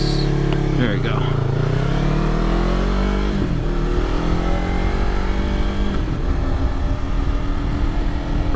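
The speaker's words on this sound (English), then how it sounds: "So when the revs get high and see it's getting louder, that's when you shift." A Yamaha R3 motorcycle engine revs up, its pitch climbing and falling through gear changes, loud and close, while a rider talks over the engine noise.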